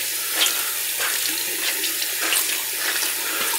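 Water runs steadily from a bathroom tap while someone rinses after a wet shave, a continuous close splashing hiss with small irregular spatters.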